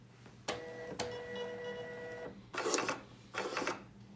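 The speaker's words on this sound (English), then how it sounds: "So you go to a station, select a product, and you press print." An i.Print label printer with cutter prints a label on continuous material: two short clicks, a steady whirring feed, then two bursts of the cutter snipping, close and clear.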